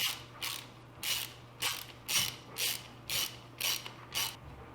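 A torque wrench tightening the oil drain plugs on a KTM 790R motorcycle gives eight evenly spaced ratcheting clicks in a steady rhythm, close and fairly quiet.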